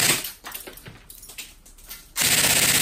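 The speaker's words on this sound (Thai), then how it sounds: "เวลาเรายิงนะครับ" An E&C 821 Gen2 airsoft gun, a 2019 version fresh from the factory, fires a quick run of rapid clattering shots, followed by a sudden steady loud hiss.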